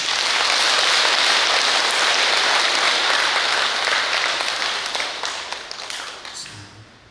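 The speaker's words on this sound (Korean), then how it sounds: "박수 한번 칩시다." A temple dharma service crowd breaks into sustained, dense applause that holds steady and then gradually thins and fades toward the end.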